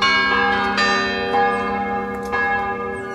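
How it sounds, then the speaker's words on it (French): A small church bell rings on a Sunday, its bright metallic strokes repeating about every second and blending into a sustained, ringing tone, loud and clear with no voices. "La petite cloche qui sonne."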